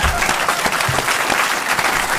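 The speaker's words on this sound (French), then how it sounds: "Vous pouvez, mesdames et messieurs, applaudir quand même Jérôme Bonaldi" Audience applause at a French TV show taping at the Alpe d'Huez festival, a steady dense burst of clapping from a sizeable crowd, loud and continuous with no talk over it.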